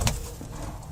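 A pigeon in a breeding cage gives a brief, soft coo that fades quickly into a faint background hum.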